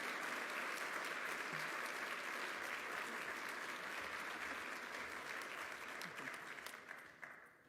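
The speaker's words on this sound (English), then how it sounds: "Please give a round of applause to honor District Court Judge Ralph Burnett" Audience applause at an awards ceremony honoring a district court judge, a full, sustained clapping from a large crowd that holds steady and then tapers off toward the end.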